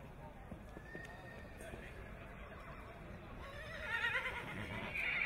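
A horse led at a walk during a bloodstock sale presentation neighs and whinnies, with faint hoof clip-clop under a presenter's voice and crowd murmur.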